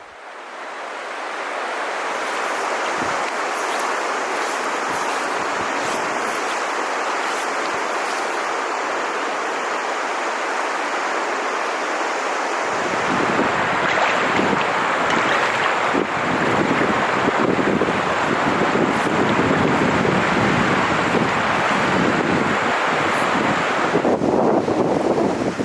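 A New Zealand river runs with a steady rushing flow, quieter and thinner at first, then swelling into a fuller, louder churn of water mixed with gusty wind noise.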